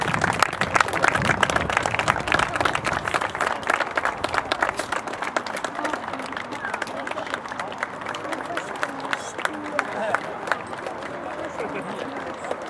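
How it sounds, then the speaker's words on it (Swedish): A crowd claps and cheers at the finish of a children's bicycle race, with distinct claps pattering steadily over a murmur of voices and outdoor background noise, fading slightly in intensity toward the end. "ber en stor applåd"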